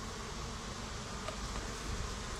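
Honey bees swarm around a late-blooming backyard hive, a steady, dense buzz that holds close and even throughout with no voices.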